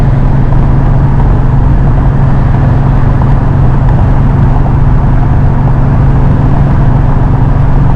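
A car engine drones steadily at about 4,500 RPM while cruising at 65 to 70 mph after a radiator recore, forming a loud, continuous hum throughout with no talking.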